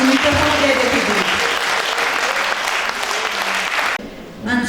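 Loud audience applause at a jubilee creative evening, dense clapping for about four seconds that cuts off abruptly, followed by a brief quieter tail with a voice beginning.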